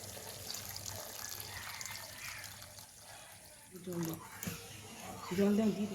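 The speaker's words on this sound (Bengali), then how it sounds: "এবার আমি মশলার মধ্যে দিয়ে দেবো নারকেলের দুধটা" Coconut milk is poured into spiced, oil-glossed curry paste for a soyabean malai kofta curry, giving a soft, close liquid splash and gentle bubbling that builds in the last couple of seconds after a quiet stretch.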